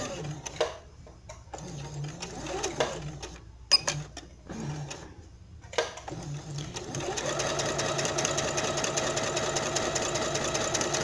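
A home sewing machine stitches the fabric body of a Tilda doll, slowing for a curve. It runs in short stop-start bursts at first, then settles into a steady, continuous whir close to the mic.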